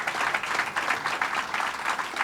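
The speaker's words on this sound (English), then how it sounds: "So let's give them a round of applause" A crowd applauds state legislators at a Long Island event with Governor Cuomo, a brief, moderately loud burst of clapping that pulses steadily throughout.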